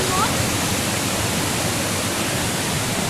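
Steady, dense rushing of a waterfall in Khao Kho, Phitsanulok, Thailand, fills the scene without pause, loud and close, a constant roar of falling water.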